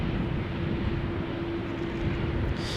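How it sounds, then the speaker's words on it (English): A Qatar Airways Airbus A350 moves along the ground at Amsterdam Schiphol airport, a continuous broadband jet roar with a steady low hum, fairly loud and unbroken throughout. "Qatar A350 also on the move, finally."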